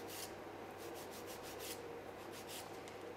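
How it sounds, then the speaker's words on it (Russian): A nail file rasps against an acrylic almond-shaped nail in quick, repeated short strokes, soft and close, with an even rhythm and no voices. "Ставим пилочку в стрессовую зону."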